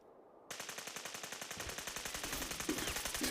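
Rapid automatic gunfire from a weapon in the VR game Fallout 4 VR rattles in an even, fast burst that runs on for about three seconds, loud and continuous.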